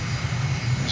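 Steady engine drone of an airliner in Microsoft Flight Simulator as the landing gear lowers on approach to Lilongwe, Malawi, a loud continuous low hum with no distinct clunk, no voices.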